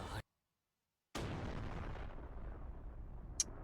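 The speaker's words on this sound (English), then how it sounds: "Not gonna lie, I expected that explosion to be a little bit bigger." An anime explosion bursts loudly after a short silence, a dense broadband roar that slowly thins as it fades, with a brief bright crackle near the end.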